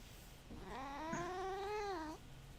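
A pet cat lets out a single long, drawn-out meow that rises and bends in pitch, close and clear over a quiet room, with no talking during the call.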